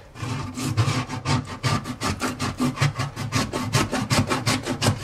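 A metal blade scrapes tough burnt black residue off the inside of an oven in fast, rhythmic back-and-forth strokes, close and loud, with a gritty rasping texture and no talking.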